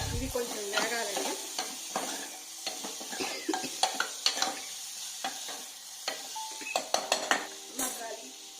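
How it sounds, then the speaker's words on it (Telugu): Onions frying in a pan with a little salt, stirred repeatedly so a spoon scrapes and clinks against the metal over a soft sizzle, in an irregular series of sharp knocks and scrapes. "కొంచెం సాల్ట్ వేసుకుంటే తొందరగా ఉల్లిపాయలు మగ్గిపోతాయి."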